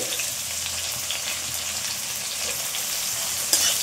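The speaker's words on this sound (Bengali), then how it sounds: "দিয়ে ভালো করে নেড়ে চেড়ে হালকা করে ভেজে নেব" Chopped onion and carrot sizzling lightly in oil while being stirred, with a steady frying crackle and soft scraping strokes of the spoon, close and unaccompanied by speech.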